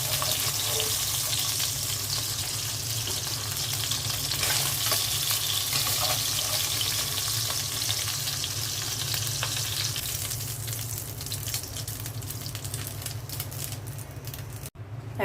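Fish fry in a pan of hot oil with a loud, continuous crackling sizzle. The steady frying runs close and unbroken for the whole stretch, with faint clatter near the end.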